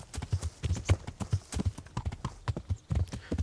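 A horse gallops in the video game Kingdom Come: Deliverance, its hooves pounding in a quick, steady clip-clop rhythm, close and loud with no talk over it.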